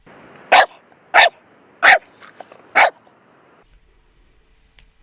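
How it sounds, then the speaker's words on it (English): A dog barking at a fence: four loud, sharp barks at an even pace, close by, followed by near silence with only faint background sounds. "And now her dog is the one that's now barking and screaming."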